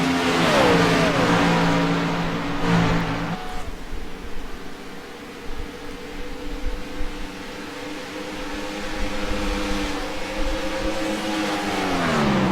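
Race cars roar along a track as one car passes slower lapped cars, its engine note loud and close, revving and holding pitch before sweeping away, with a second pass building near the end.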